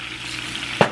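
Cornbread stuffing ingredients sizzle steadily in a hot pan, with one short sharp scrape of a utensil near the end, close up and without speech.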